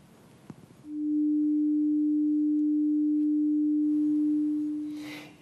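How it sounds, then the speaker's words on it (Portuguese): A 300 Hz pure tone fades in after a faint click and holds steady, clean and loud, for about four seconds before tapering away, alone with no talk. "Este tem a frequência de 300 Hz."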